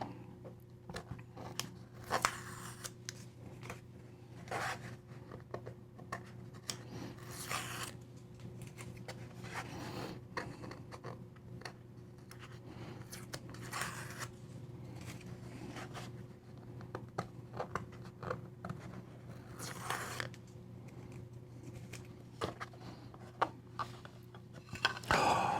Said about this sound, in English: All right, so that means I must pull the tape back.